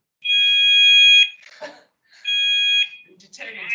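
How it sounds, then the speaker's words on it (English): A building fire alarm being tested sounds in two loud, steady electronic tones, each held for about a second and separated by short gaps, with a voice making an announcement over a PA between the tones. "The fire alarm test is now complete."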